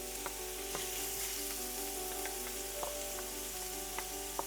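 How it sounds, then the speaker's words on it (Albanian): Chopped onions fry in a small amount of oil in a pan as the first step of an Albanian minced-meat byrek. A steady close sizzle is dotted with faint crackles and pops, and no one speaks. "Dhe po filloj çik me skuqjen e qepës."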